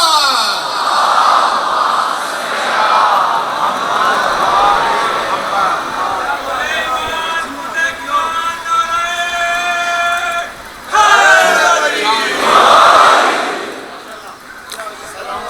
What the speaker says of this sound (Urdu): سرکار حضرت ابو طالب علیہ السلام بلند تر صلوات